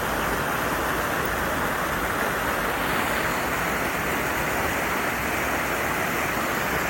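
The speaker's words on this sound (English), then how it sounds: "Dunfield Creek waterfalls." Dunfield Creek waterfalls pour in a steady, loud broadband roar of rushing water, continuous and close for the whole stretch, with no voices over it.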